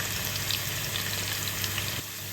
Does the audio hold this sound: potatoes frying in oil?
yes